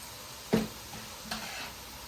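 Degi mirch being stirred into boneless chicken frying on a tawa: two quick spoon scrapes over a soft, steady sizzle, close up, with no voices.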